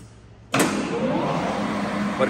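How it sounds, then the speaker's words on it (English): A Mecca Turn 460x1000 lathe spindle, made in Korea, kicks on abruptly at maximum speed of 1800 rpm and settles into a steady, moderately loud whirring hum. "Working of spindle at its maximum speed, that is 1800 rpm"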